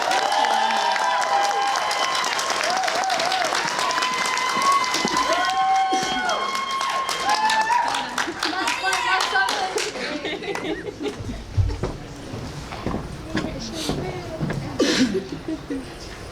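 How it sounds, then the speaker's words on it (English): Applause for a poet at the AIHEC poetry slam, with clapping and crowd noise rising under a speaking voice. The clapping grows into loose, scattered claps toward the end while talk carries on. "Let's give a round of applause for Jalen."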